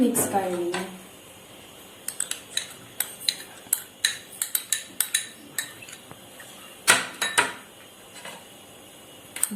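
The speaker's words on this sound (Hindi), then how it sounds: "ऐसे ऐसे करते हुए सभी इंग्रेडिएंट्स को हम लोग मिक्स कर लेंगे" A spoon knocks and scrapes against a bowl as capsicum, tomato and other veg mayo cheese sandwich ingredients are mixed, giving a run of sharp, uneven clinks close to the mic, with someone talking.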